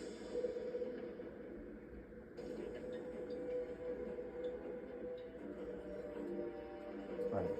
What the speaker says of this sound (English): Till the next train comes by.